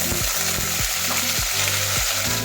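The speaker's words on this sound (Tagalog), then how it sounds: "Magigisa na tayo mga suki, ilagay na natin yung ating bawang, sibuyas, kamatis" Garlic, onion and tomato sauté together in a pan for shrimp sinigang, a dense continuous sizzle with regular scraping strokes of the utensil at close range.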